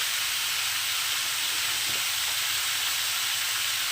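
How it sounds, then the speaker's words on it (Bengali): Ridge gourd frying with turmeric in a pan over high gas flame, a loud, continuous broadband sizzling hiss holding steady throughout with no talking. "ঝিঙেগুলোকে এখন একটু ভেজে নেবো সামান্য একটু হলুদ দিয়ে দেবো এটার মধ্যে"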